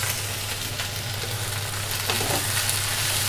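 Onion, chilli and capsicum frying in a pan, a loud, close, continuous sizzle with faint stirring scrapes and no talking.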